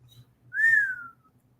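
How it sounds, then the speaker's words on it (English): A single low whistle from a person, rising then gently sliding down over about half a second, clear and alone over a faint low hum. "that low whistle"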